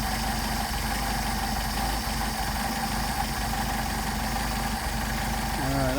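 A Mercedes 190SL engine with rebuilt Solex carburetors idles steadily at close range, a constant, even drone with no revving.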